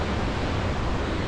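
Ocean surf at Nusa Penida heard from a high cliff, a steady broad rushing wash with wind noise, continuous and fairly loud, with no talking.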